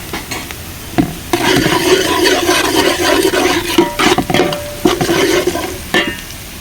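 A spoon stirs turmeric through raw fish pieces for a Telangana-style fish curry, scraping and clattering against the pot in repeated strokes with brief pauses, close and fairly loud, no talking.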